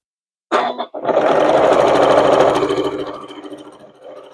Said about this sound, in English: Now I'm lining it up with the top and sewing to the middle.